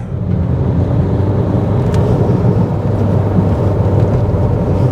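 A car overtakes a truck on National Highway 44 in Madhya Pradesh, heard from inside as a loud, steady low engine and road rumble with wind noise, continuous throughout and free of talk.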